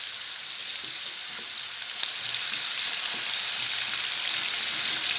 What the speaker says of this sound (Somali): baradhada saliidda inaan ku shiilaa rabaa wax biyo ku dari maayo